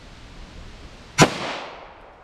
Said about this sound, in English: let's start with our 9mm, 5 yards from the target, 4 yards from the chronograph